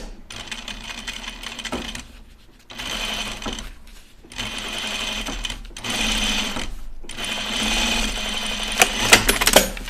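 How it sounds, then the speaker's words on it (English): A sewing machine with a narrow foot stitches a line of seams on jeans, running in several bursts of steady whirring separated by short pauses, close and clear, with no talk over it. "let's do our other line of stitches"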